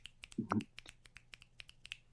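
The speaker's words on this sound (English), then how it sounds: "finger snaps" Finger snaps sent over a Discord voice call, a string of sharp, thin clicks at a fairly steady pace, faint and slightly compressed, with a brief burst of voice partway through.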